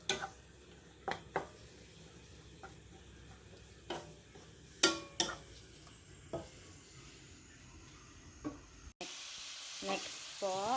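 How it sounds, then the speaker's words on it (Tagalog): Hotdog and vegetables sautéing in a pan, a steady soft sizzle broken by sharp, irregular clicks and scrapes of a utensil stirring against the pan, with one brief cut near the end. "Sa isang kawali po, Pipituhin lang po muna natin yung ating hotdog."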